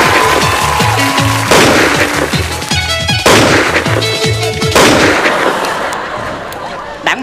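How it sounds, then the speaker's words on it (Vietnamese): Staged gunfire effects in a Vietnamese comedy skit: loud, dense bursts of rapid shots and booming blasts keep going without a break, the barrage swelling and restarting in waves. "Bắn quá trời, thằng nào trúng đạn vậy?"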